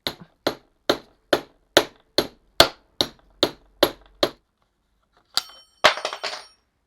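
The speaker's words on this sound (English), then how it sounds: "let's try giving it a good whack to loosen the threads." Ten sharp metallic hammer strikes on a stuck bolt on a Suzuki DRZ400SM motorcycle ring out at a steady rhythm, then after a pause a few more hits land in quick succession, close and loud.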